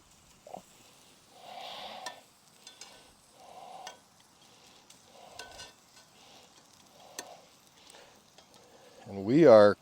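Canned Bush's original baked beans cooking in a pot over a wood fire at a solo truck-tent campsite, with short scraping stirs and soft sizzling bursts repeating every second or so, ending in a louder rising clatter.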